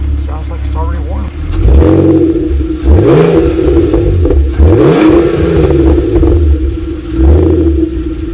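An Audi TT VR6 engine, already warm, idling and then revving in several rising and falling pulls, loud and close inside the car, with someone talking over it.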